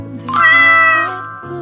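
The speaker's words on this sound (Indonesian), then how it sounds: "Kucing dari mana ini?" A single loud, drawn-out meow from a cat, close by, followed by a softer trailing sound.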